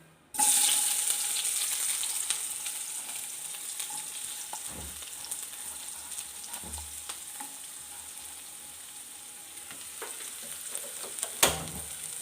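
Cumin and onion fry in hot oil in a pan, a steady, close sizzle that starts abruptly and holds throughout, with occasional clinks and stirring knocks and a sharp clatter near the end.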